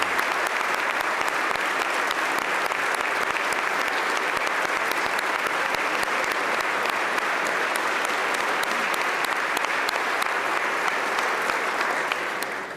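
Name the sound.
audience applause for the First Lady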